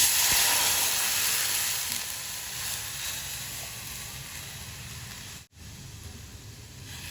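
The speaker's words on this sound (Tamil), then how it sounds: "இப்போ நம்ம இந்த அடித்து வச்சுருக்கிற இந்த மோரையும் இது கூட சேர்த்துக்கலாங்க" Buttermilk poured into a hot pan with turmeric for Kerala-style moru, sizzling and hissing loudly at first, then settling into a softer steady fizz with a brief dropout near the end, no voices.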